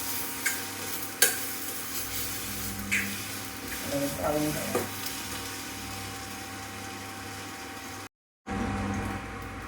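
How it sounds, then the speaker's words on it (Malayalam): Mushroom curry ingredients with chili powder are sautéed in a pan, giving a steady low sizzle with occasional spoon scrapes and stirring clatter and a short dropout near the end. "ഇതെല്ലാം കൂടെ ഒന്ന് നന്നായിട്ട് നമ്മൾ വഴറ്റിയെടുക്കാം."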